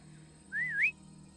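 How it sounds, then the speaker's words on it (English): A character in the turn-based tactics game Jagged Alliance: Rage! gives one short, clear whistle that wavers and then rises, sounding alone over a quiet, low background hum. "Whistle to lure people."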